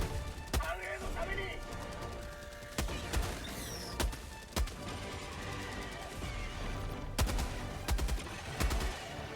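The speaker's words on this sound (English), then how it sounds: "with the heavy machine gun, it only takes 3 shots to take them down" A heavy machine gun fires in the video game Helldivers 2. Loud, sharp bursts and single shots repeat every second or two under a narrating voice, over game combat noise.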